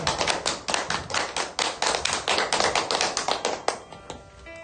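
An audience at a Korean literary concert and essay reading claps together in a steady, rhythmic beat. The claps are close and crisp, then thin out to a few scattered ones at the end.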